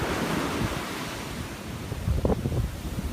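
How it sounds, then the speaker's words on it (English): Strong ocean surf crashes along the Brooklyn shore in New York City during the 2016 blizzard, a continuous roar of breaking water and gusting wind against the microphone, swelling louder near the end. "Look at these amazing waves here. I've never seen waves this strong down here before."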